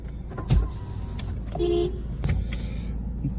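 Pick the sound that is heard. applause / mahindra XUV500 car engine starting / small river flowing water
mahindra XUV500 car engine starting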